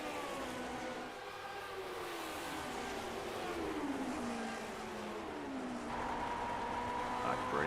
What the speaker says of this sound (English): You can hear that car decelerating, just rolling off the gas as he's coming through